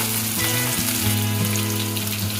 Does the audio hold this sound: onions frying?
yes